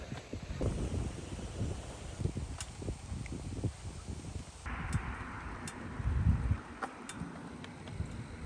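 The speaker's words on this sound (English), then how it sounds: "The winds are so strong today that I'm having to push the cart downhill." Gusty, strong wind buffets a microphone on a walk while a cart is pushed downhill, rough roaring bursts rising and falling with scattered faint ticks.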